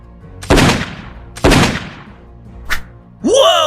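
Gunfire sound effect from a Batman motion comic: two loud, sharp shots with ringing tails about a second apart, a shorter crack after, then a rising whoosh-like effect at the end.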